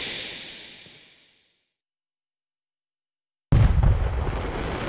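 A firework bomb in a New Year's Eve fireworks simulator game: a hissing fizz fades into about two seconds of silence, then a sudden loud explosion bursts in and keeps roaring.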